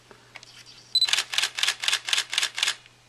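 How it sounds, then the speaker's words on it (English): A Nikon D5000 DSLR fires a fast continuous burst of about seven shutter clicks at roughly four frames per second, close and crisp, after a few faint handling clicks in a quiet room. "let's demonstrate the fast shutter speed on this camera. It's rated at about 4 frames per second"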